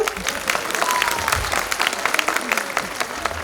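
Audience at a school annual day applauding, with dense, steady clapping from many hands that stays loud and continuous throughout.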